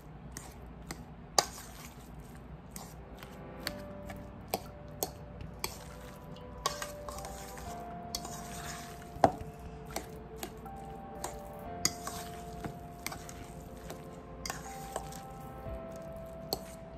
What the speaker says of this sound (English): And just gently mix it in.